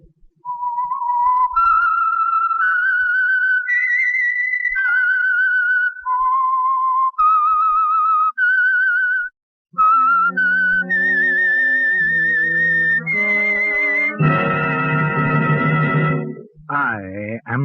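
A long, clear melodic whistle rises and falls through a sequence of sustained notes, ending with a brighter, harsher tone and a sliding swoop.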